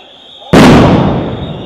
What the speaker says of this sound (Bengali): গ্রেনেড নিক্ষেপ।